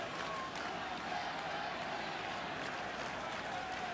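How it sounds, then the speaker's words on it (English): Red Sox fans chanting in a stadium crowd during a game against the Yankees, a dense, steady roar of many voices and clapping heard from a distance, fairly faint, continuous for the whole span. "Yankees fans are having trouble drowning out the chant"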